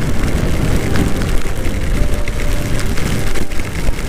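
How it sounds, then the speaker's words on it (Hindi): Heavy rain pours down hard and continuously at Trambakeshwar in Nashik, a dense, loud hiss and patter of drops drumming on surfaces throughout, with no voices. "क्या जोरों से शुरू हो चुकी है अभी बारिश यहाँ पे,"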